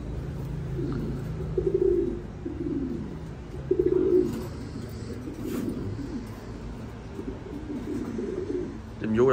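Domestic pigeons cooing around newly hatched chicks, several low rolling coos repeating close by over steady background noise, with a person talking in between.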